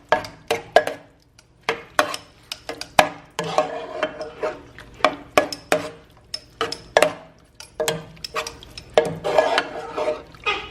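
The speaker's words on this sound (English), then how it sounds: "I am going to stir it up." Sloppy joe mixture being stirred in a pan, a rhythmic series of scraping utensil strokes and clinks against the pan, close and fairly loud, repeating steadily with short pauses between strokes.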